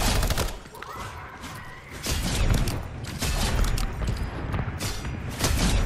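Gunfire in a Fortnite zombies match comes as repeated loud shots mixed with mechanical clacks and thuds, steady and close throughout.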